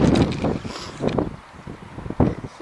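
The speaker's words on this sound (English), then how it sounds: "I've just noticed, I've got here and it's really windy" Strong wind buffets the microphone in rough, uneven gusts outdoors at a drone-flying spot, a loud rumbling roar that rises and falls with no one speaking.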